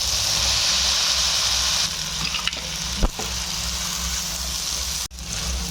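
Chana dal sizzling in hot oil in a pan, a loud, steady frying hiss with a few stirring clicks and a brief clatter near the end, no voices.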